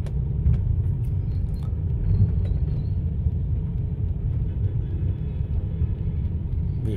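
Steady low rumble of busy suburban morning road traffic in Vientiane, motorbikes and trucks passing continuously at moderate distance, a dense unbroken drone with no talk.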